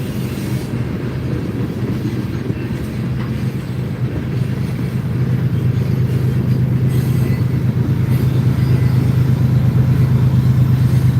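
A long freight train rolls past at close range with a DPU locomotive at the rear, a steady rumble of railcars and wheels on the transcontinental line. The rumble holds through the whole passage and grows slightly louder and heavier toward the end.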